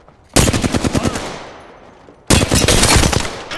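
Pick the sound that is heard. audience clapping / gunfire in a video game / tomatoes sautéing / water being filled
gunfire in a video game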